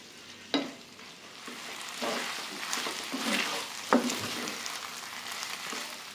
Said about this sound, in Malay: Gorengkan sekejap.